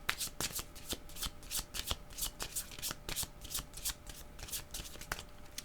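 Tarot cards are shuffled close up in quick, crisp riffling bursts that repeat steadily, with no talking.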